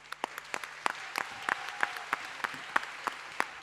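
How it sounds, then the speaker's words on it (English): A small audience after a debate gives sparse applause, a few distinct, uneven claps spaced across a quiet room, faint rather than a full ovation. "Huge applause to all of you."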